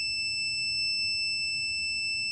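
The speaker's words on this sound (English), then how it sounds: "The buzzer goes off" An ESP8266 water detector's buzzer alarm sounds a steady, piercing electronic tone continuously without pause, shrill and unchanging over a low background hum.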